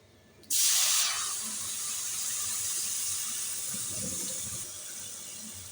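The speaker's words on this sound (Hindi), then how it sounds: "अब बारी आती है इसमें पानी डालने की।" Water poured from a vessel into roasted semolina in a pan for suji halwa, a sudden loud hissing splash that settles into a steady sizzling bubble and continues to the end.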